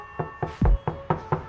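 Knuckles knock on a sound-insulated door of a 2020 Volkswagen Amarok V6 pickup, six dull, short thuds in an even rhythm, one heavier and deeper than the rest, close by with no talk.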